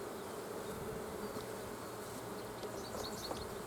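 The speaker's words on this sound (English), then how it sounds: "I know these are my bees" Honeybees buzzing around a hive while the bottom board is being scraped, a faint, steady drone with occasional closer passes over a quiet background.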